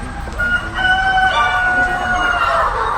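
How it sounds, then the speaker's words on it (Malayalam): Kaveri breed chickens inside a poultry shed, many birds clucking and calling together at close range, with harmonic squawks rising over a steady crowded hum and no talk. "ഇവിടെ കാവേരി ബ്രീഡ് കോഴികളാണ് ഇതിലുള്ളത്."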